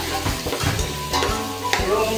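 Tomatoes sizzle in a hot pan for milkfish sinigang, with close stirring scrapes and crackling oil in short bursts, no talking.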